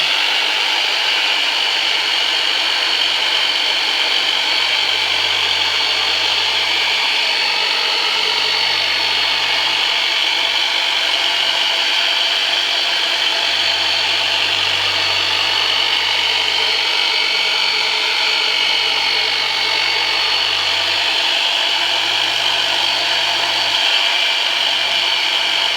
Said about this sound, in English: this is just a real tooled Black & Decker jigsaw that I had a patient make